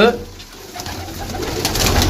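A pigeon coos loudly and close by, a short throaty call rising over a murmur of background noise.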